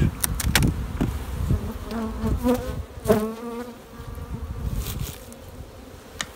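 Honey bees buzzing close by at an open hive, a droning hum that rises and wavers, with a few knocks and rustles mixed in.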